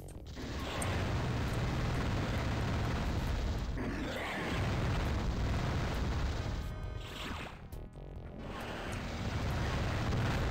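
Explosion in the Descent video game, a loud sustained roaring blast that fills the whole stretch, dipping briefly and then surging again.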